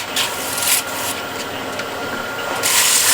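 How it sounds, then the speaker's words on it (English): Sanding a sharp rim on a thin-walled turned wooden piece: a steady, close, abrasive rubbing with short intermittent hissing sweeps. "Now the rim here is actually a little bit sharp, so I'll just sand it so I don't cut myself."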